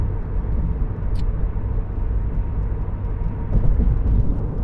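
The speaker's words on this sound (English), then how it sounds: "There are some pockets in this section that I hate driving through." Steady low road rumble from inside a car driving over rough, torn-up road under construction, loud and continuous with a brief bump near the end and no speech.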